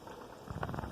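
Chicken for biryani simmers in yogurt liquid in an uncovered pot, giving a soft, faint bubbling and crackling that grows busier toward the end, with no voices.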